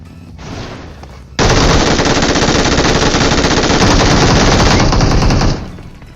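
Sustained rapid gunfire in BGMI (Battlegrounds Mobile India), a dense loud burst lasting several seconds after a quieter lead-in, then cutting off.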